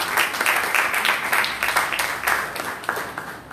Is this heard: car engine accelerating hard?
no